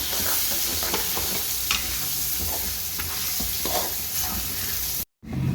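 Thick ground lentil paste with curry leaves stirred and fried in a pan, a constant close sizzle broken by the scrape of a spoon, with no talking.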